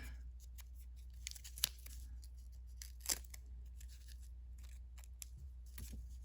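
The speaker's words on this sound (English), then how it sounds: "we're going to take a little piece of masking tape and put it on the back" Masking tape is cut or torn from a roll during bracelet loom weaving, giving a few brief, quiet snipping and tearing snaps, the clearest near the middle, over a low steady hum.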